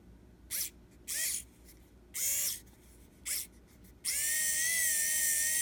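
A mini precision cordless electric power screwdriver whirs in several short, high-pitched bursts, each spinning up and stopping, then runs steadily at full speed with a thin motor whine.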